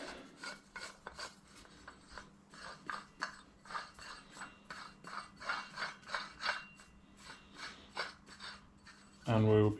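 Threaded adjustable stage legs with lock nuts are wound in by hand, giving a run of rasping, ratcheting metal turns in quick bursts, close and fairly quiet, with a louder bump at the very end.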